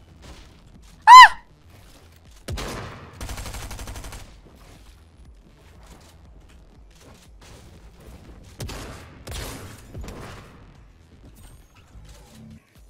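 Gunfire rings out in a video game arena match: two separate rapid bursts of shots several seconds apart, preceded by a sharp high chirp, with near silence between.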